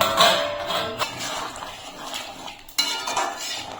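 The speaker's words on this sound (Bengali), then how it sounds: "এখন 5 মিনিটের মতন ঢাকা দিয়ে দেবো।" A metal lid is set onto a cooking pot of Bengali papaya curry with potatoes and lentils. Close clanks and scrapes of pot and utensil ring out, with one sharp knock near the end.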